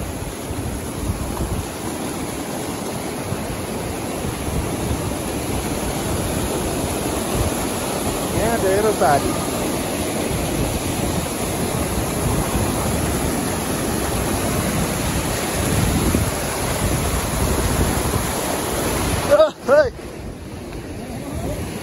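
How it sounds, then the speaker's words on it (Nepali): A mountain stream swollen by upstream rain rushes in a loud, constant roar close by, the flow never letting up, with wind buffeting the microphone and a brief voice near the end. "अहिले माथि पानी परेकोले गर्दाखेरि चाहिँ खोला बढिसकेर छ"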